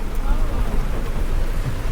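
Heavy rain pours in a dense, loud, steady hiss that fills the whole stretch without a break.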